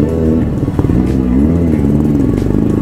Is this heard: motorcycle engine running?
yes